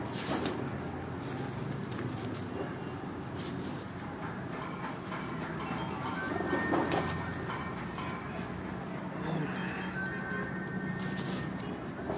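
Pigeons coo softly from a rooftop in Dhok Kala Khan, Islamabad, their low calls blending into a steady wash of outdoor background noise that continues for the whole stretch, with no voices.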